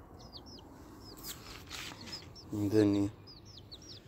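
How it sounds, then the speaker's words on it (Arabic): Chickens on a rooftop give a short burst of clucking near the end, moderately loud over a quiet outdoor background with faint bird chirps and a voice speaking briefly. "وين هذن الدجاجات وين راح؟"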